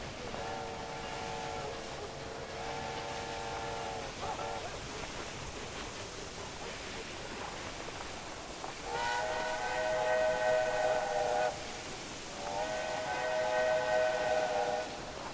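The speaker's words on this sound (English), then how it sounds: "This looks like a much bigger train than the ones I had before." A train in the Railroad Empire 2 video game sounds a steady multi-tone whistle over a rolling rumble, then two louder, longer whistle blasts follow as it passes close by.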